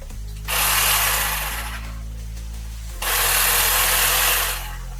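A STHOR cordless battery-powered tool runs in two loud, close bursts of about one and a half seconds each. Between them the motor drops to a low idle hum. No one speaks.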